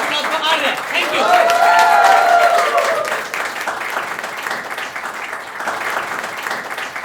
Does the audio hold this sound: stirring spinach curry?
no